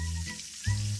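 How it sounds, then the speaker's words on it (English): Fresh bacon frying on a breakfast grill, a short burst of crackling sizzle with a low hum underneath. "fresh bacon sizzling on the grill"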